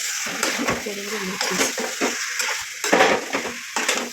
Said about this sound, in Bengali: দেখো আমি চিকেনটা বসিয়ে দিলাম, এখন আমি কষে নেবো ভালো করে।